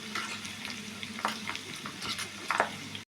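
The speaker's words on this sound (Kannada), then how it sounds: "ಕರಿಬೇವು ಸೊಪ್ಪು ಹಾಕಿಬಿಟ್ಟು ಸ್ವಲ್ಪ ಎಣ್ಣೆಯಲ್ಲಿ ಅದನ್ನು ನೀಟಾಗಿ ಸ್ವಲ್ಪ ಕರಿಯವರೆಗೂ ನಾವು ಇದನ್ನು ಇಡಬೇಕು" Curry leaves fry in hot oil for a mango pickle, a steady close sizzle with brief crackling spurts and occasional stirring scrapes, no voices.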